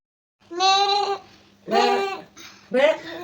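A goat bleats three times before a ritual sacrifice, each call loud, close and wavering, with short quiet gaps between them.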